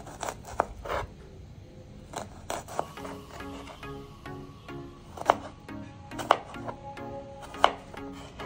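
Onions are chopped finely with a knife: irregular sharp taps and slices against a board, some louder strikes standing out, with no talking.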